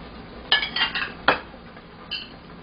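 A few light metallic clinks and scrapes of a spoon against a pot while skimming foam from a beef hot pot, close and quiet, separated by short pauses.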